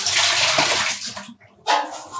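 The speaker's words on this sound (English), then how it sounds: "Let me pour that away." Rinse water from dyed yarn poured away into a sink, a broad splashing rush for over a second, a brief drop, then a second short pour near the end.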